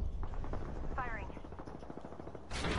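Apex Legends gunfire in rapid bursts plays under steady voice chat, a continuous stream of close shots with a brief rising whine partway through and a louder burst at the end.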